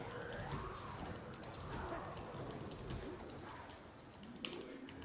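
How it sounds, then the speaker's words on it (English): Pigeons cooing in Prince of Persia: The Forgotten Sands, soft repeated coos and fluttery calls layered over a constant low game ambience, moderately distant and steady throughout. "And then we've got those stupid birds again."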